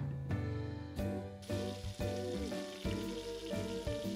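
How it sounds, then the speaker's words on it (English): Short ribs searing over high heat in a Le Creuset Dutch oven, with a steady close sizzle broken by several soft knocks and shifts as the meat is handled, fairly quiet overall with background music. "Dutch oven on high heat and then add in your short ribs"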